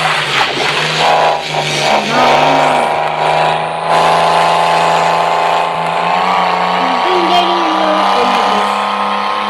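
Engine of a vehicle being driven in a hunting simulator video game, a steady drone with shifting pitch that runs throughout, loud and continuous, while a voice talks over it.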